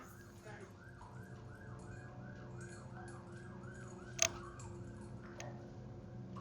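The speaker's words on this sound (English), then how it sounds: "Ambulance or a police car just went by." An ambulance or police car siren wails in repeating rising-and-falling sweeps, moderately distant, passing over steady background rumble, with a sharp click partway through.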